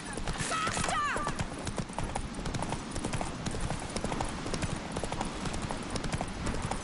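A horse gallops in the video game Witcher 3, rapid rhythmic hoofbeats clip-clopping steadily and close throughout, with a brief whinny near the start and voices speaking over the action.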